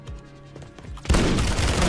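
A loud burst of shotgun fire in the online shooter Warzone erupts after a quieter stretch of in-game sound, a dense, heavy blast that hangs on to the end.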